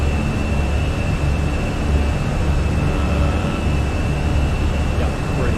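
An Airbus A320 jet taking off and climbing in the Fenix flight simulator: a loud, steady broadband roar with a thin high whine held throughout, no voices.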